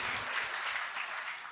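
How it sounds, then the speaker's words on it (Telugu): A crowd of listeners claps steadily through a short stretch, a dense, even rattle of many hands at moderate loudness that tapers slightly at the end, with no talking. "ఇప్పుడు కొట్టండి చప్పట్లు"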